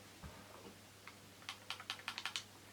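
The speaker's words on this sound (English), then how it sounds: "The rattling was just the brush." Makeup brush rattling faintly in a quiet room, a quick run of light clicking taps that bunch closer together toward the end.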